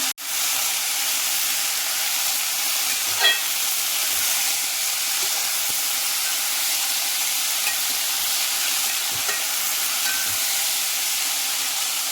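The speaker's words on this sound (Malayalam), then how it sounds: "ഇതിലേക്ക് നമ്മൾ അരിഞ്ഞു വെച്ചിട്ടുള്ള പയർ ഇട്ട് കൊടുക്കാം" Chopped green beans hit a hot pan of popped mustard seeds for a Kerala-style stir-fry, giving a steady, loud sizzling hiss with a few faint stirring clicks and no talking.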